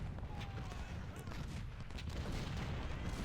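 Dense rumbling artillery and gunfire from a Civil War battle in the strategy game Ultimate General: Civil War, a continuous low booming wash at moderate level, heard beneath a voice.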